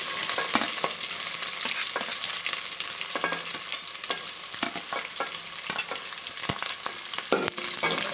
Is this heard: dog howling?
no